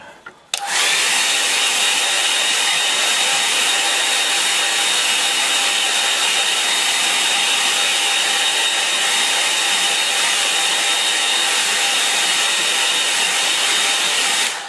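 Hair dryer blowing steadily over a wet-in-wet watercolour painting, a loud continuous whirring hiss starting abruptly after a short pause and running unbroken to the end.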